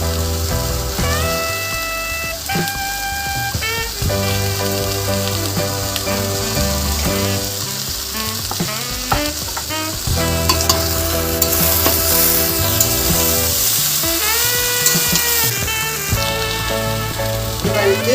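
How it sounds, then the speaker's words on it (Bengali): Bitter gourd and other vegetables fry and are stirred in a pan for Bengali shukto. A continuous hiss of sizzling oil carries frequent scraping spatula strokes, with soft background music running underneath. "এবারে আমি এটার সাথে করলাটা মিশিয়ে দিলাম"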